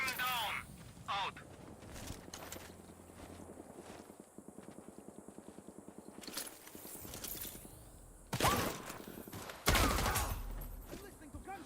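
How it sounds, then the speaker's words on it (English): Gunfire in the shooter game Sniper Ghost Warrior Contracts 2, with a rapid mechanical rattle of shots in the middle, scattered louder bursts and blasts later, and voices speaking throughout. "I'm listening to gunshots here."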